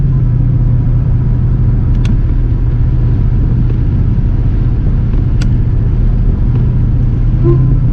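A modified 2003 Mercedes CL55 AMG with a supercharged engine drones loudly and steadily from inside the car while driving, a deep exhaust rumble with a couple of faint clicks and no talking.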